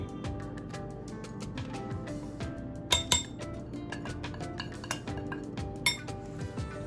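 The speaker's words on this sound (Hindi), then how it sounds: "और इसको भी अच्छी तरह से ये मिक्स कर लेते हैं।" Spices are mixed into an eggplant and potato pakora batter in a bowl, with a spoon clinking against the bowl in irregular bursts over a low background hum and a few louder knocks.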